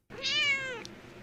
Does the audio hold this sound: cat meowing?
yes